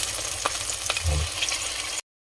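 Fish sauce goes into a hot pan while sautéing for an oyster dish with tomato, and a steady close sizzle and crackle plays alone for about two seconds before cutting off abruptly.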